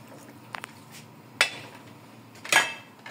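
A spoon knocks and scrapes against a metal pot while stirring beef callos, a few sharp clanks and clinks scattered over quiet background, no talk.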